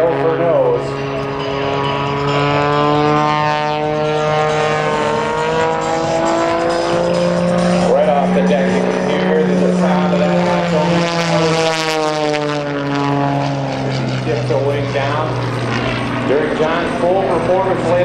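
A propeller aerobatic airplane at a Joint Services Open House airshow, its engine loud and sweeping up and down in pitch as it maneuvers, with an announcer talking over it throughout.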